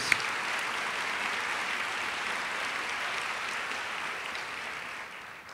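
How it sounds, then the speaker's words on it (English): An audience at a school district convocation applauds steadily in a dense, even wash of clapping that holds for several seconds and then begins to thin toward the end. "Let's give them a round of applause, please."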